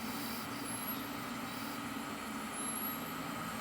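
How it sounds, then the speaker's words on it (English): Fans whir loudly and steadily inside a custom-built Intel Pentium 4 desktop PC, a dense, constant drone with a faint high whine, close and uninterrupted, with nobody talking. "This is why I call it the jet engine computer."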